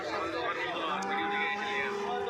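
Deep lowing of water buffalo amid a noisy livestock market in Rajshahi, with a crowd murmuring and other animal calls blending in the background.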